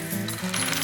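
Coins clatter and jingle as they drop in a coin pusher arcade machine, a brief, close metallic cascade over steady arcade hum.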